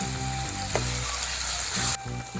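Sliced onions and slit green chillies fry in a pan for pork chops, giving a steady close sizzle with a brief scrape partway through and no talking.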